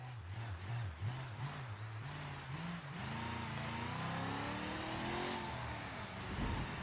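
A 1989 Chevy K2500 truck engine in a driving game, rising and falling in revs before climbing into a long steady drone, loud and close with no talking.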